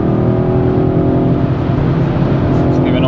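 Loud, continuous engine roar from a 2023 BMW XM in Sport Plus mode under throttle, a deep, sustained drone heard from inside the car with no break.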